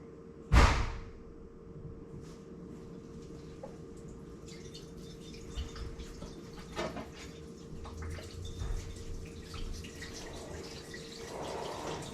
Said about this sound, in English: So we're running through water through our coil, bringing the temperature down